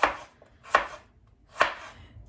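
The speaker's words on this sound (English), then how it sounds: "these are raw onions, if you didn't know. And I'm also cutting like a 2-year-old" A knife chops through raw onions on a board in three distinct, evenly spaced strokes, close and crisp with quiet gaps between cuts.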